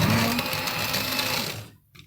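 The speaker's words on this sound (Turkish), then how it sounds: "Ve blenderla üzümlerimizi ezelim." A blender whirs loudly crushing grapes, its motor steady and then winding down and cutting off near the end.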